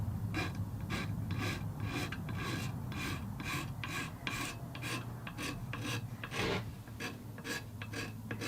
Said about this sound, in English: use a razor blade, kind of like you'd use a card scraper, and scrape the purfling and any excess glue flush